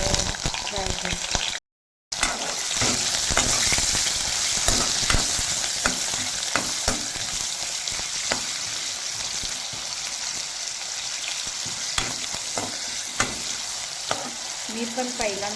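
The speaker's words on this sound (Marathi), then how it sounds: "याच्यामध्ये पनीर फ्राय करू." Paneer cubes fry in a little hot oil in a pan, giving a steady, close sizzle with occasional stirring scrapes that runs the whole time, with a brief dropout near the start.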